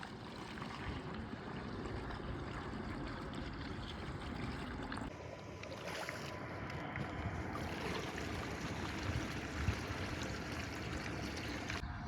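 Water gushing steadily into a farm sprayer tank already dosed with a cup of herbicide, a continuous rushing, splashing flow heard close up outdoors for the whole stretch, its tone shifting slightly as the tank fills, with no talking.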